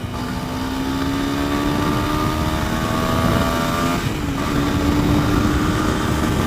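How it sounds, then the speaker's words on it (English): A small motorcycle engine screaming at full throttle, its high buzzing pitch climbing steadily, briefly dipping as it shifts, then pulling hard again, with wind rushing. "That's wide open throttle."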